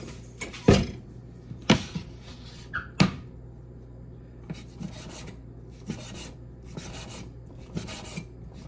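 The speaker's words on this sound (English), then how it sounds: "we're gonna chop up this bacon" A knife chops through strips of bacon on a cutting board: three loud, sharp thuds about a second apart, followed by a run of softer, quicker cuts and faint rasping scrapes.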